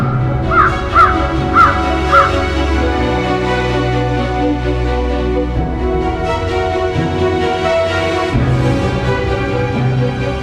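A crow caws several times in short rasping calls early on, heard over a loud sustained drone of music that fills the rest of the clip.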